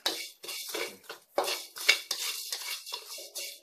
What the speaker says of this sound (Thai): ข้าวเหนียวแล้วก็ ตะไคร้ แล้วก็ ข่า คั่วค่ะ คั่วไปเรื่อยๆนะคะ